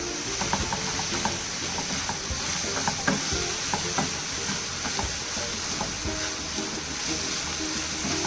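Vegetables sizzling in a pan for a Kerala mezhukkupuratti, stirred with frequent clicking spoon scrapes over a steady hiss of frying, close and moderately loud with no voices.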